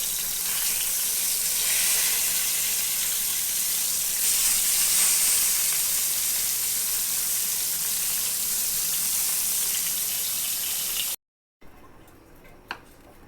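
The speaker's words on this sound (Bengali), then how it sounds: "এখন বেগুনটা ভাজবো। বেগুন ভাজবো।" Eggplant (brinjal) slices frying in a pan, giving a steady, loud sizzling hiss that runs without a break, then cuts off briefly before returning more faintly.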